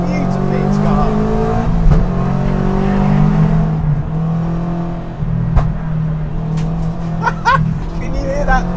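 A turbocharged Toyota GT86 engine revs loudly nearby, with sharp pops and bangs from the exhaust scattered through the run. Someone talks over the engine noise.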